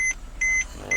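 Air-conditioning controls in a 2008 Mercedes-Benz C350 beep three times, each a clear, evenly spaced electronic tone heard close up inside the car cabin.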